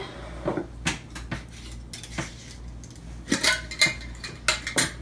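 A spoon scoops dried yarrow into a container, giving a series of light clinks and taps, sparse at first and then quicker clustered rattles near the end, close and alone.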